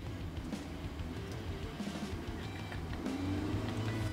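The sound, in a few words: car engine revving without gear engaged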